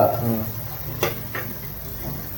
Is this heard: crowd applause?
no